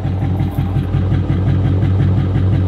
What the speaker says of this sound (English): Now they make a lot of noise, but you can hear that clacking.